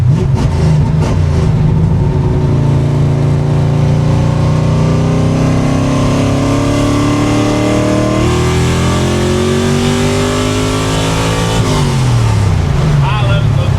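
A car with a 347 engine, TKX gearbox and 150-shot nitrous setup revs loudly and continuously, its engine note climbing steadily in pitch under load before dropping near the end, very close and dominant throughout.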